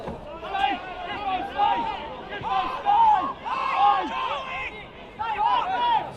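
Crowd at an under-20s or first-grade Northern NSW NPL football match, Broadmeadow Magic against Lambton, growing loud and vocal with overlapping shouts and calls, steady babble of many voices filling the whole stretch at close to moderate distance.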